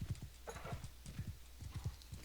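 Horse hooves clip-clop in a steady, fairly loud walking rhythm in a video game, each hoof strike sharp and distinct, with no talking over it.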